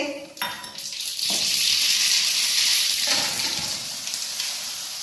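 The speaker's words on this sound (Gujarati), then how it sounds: "આપણા ઢોકળા વઘારાઈ ગયા" Curry leaves, sesame seeds and asafoetida hit hot oil in a pan as a tempering for dhokla, giving a loud, steady sizzle with stirring clinks of a spoon against the pan.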